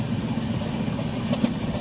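The Purushottam Express 12802 rumbles through hilly country, a steady low roar of the carriage with rhythmic wheel clatter heard from inside the moving train, fairly loud and without talk.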